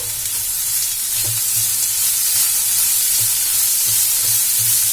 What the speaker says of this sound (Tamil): அதனால நம்ம சிம்ல வச்சுட்டு இதை நல்லா வதக்கிக்கலாம்